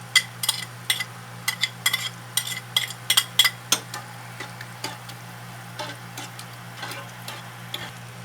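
Onion and garlic fry in a pan for fish ball sauce, with a soft continuous sizzle under a steady low hum and irregular sharp clicks and scrapes of a utensil stirring against the pan.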